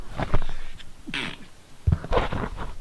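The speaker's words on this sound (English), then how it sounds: "I'm going to sneeze." A person sneezes close to the microphone, a sharp explosive burst followed by a second forceful sneeze a moment later, with brief breathy sounds in between.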